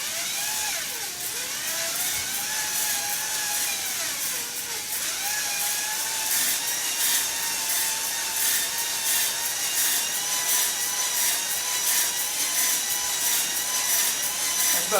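A drill motor runs steadily inside a Jeep 4.0 engine cylinder, a sustained whirring drone with shifting pitch as the speed varies, continuous and fairly close.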